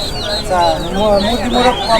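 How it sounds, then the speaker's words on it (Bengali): A rooster at a pigeon and poultry market clucks in a loud, close series of short calls, with market noise and voices around it. "এইটা মোরগ"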